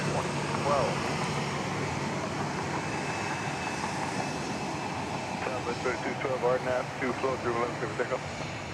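A Southwest airliner jet taking off at night from runway 31 left at Dallas Love Field, a steady broad engine roar at a distance with an air traffic control voice talking over it.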